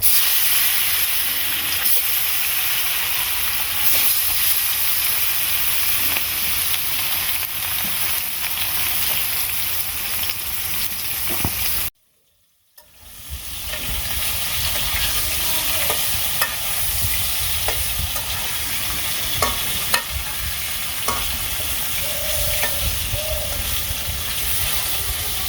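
Fish sizzling in hot oil in a pan as it is stirred, with a steady hiss and scattered scraping clicks, broken by a brief silent gap partway through.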